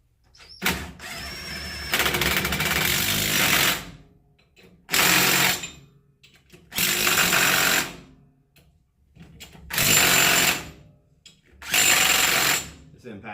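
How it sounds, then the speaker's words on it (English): Impact wrench spinning lug nuts onto chrome 18x8 Dayton wire wheels on a 1993 Chevy S10 Maxi Cab pickup, five loud bursts of whirring, hammering rattle lasting one to two seconds each, with short quiet gaps between. "This impact isn't made to do lug nuts, but it gets them started."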